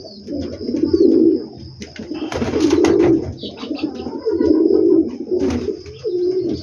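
Pigeons coo loudly and close by in repeated low, rolling phrases, with occasional rustles and soft chirps between the calls.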